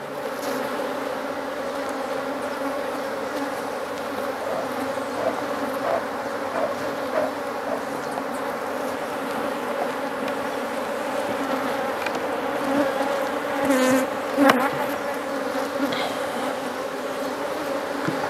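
Honey bees swarm and buzz around an opened hive during a colony split, a dense steady drone filling the air close by, with a few louder passes of individual bees near the end.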